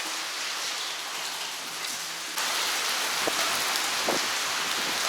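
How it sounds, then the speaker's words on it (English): Steady rain falls on a city street among apartment buildings in Bosnia and Herzegovina, a continuous broadband hiss that grows louder partway through, with a few sharper drips and splashes close by. "There's rain coming down."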